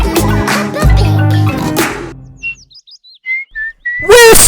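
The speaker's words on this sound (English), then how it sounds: "Whistling!" Cartoon whistling from a pig family character, a string of short bright tuneful notes on its own after a burst of loud music, with a little voice sound at the end.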